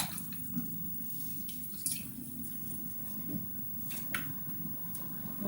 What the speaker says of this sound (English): wash it a bit in the water